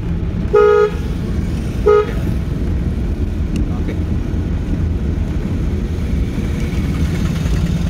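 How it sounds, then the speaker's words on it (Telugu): Two short car horn honks close by, the first slightly longer, over a steady engine hum and road noise, from a learner's car at a driving school. "హార్న్ కూడా కొట్టాలి ఎక్కువగా"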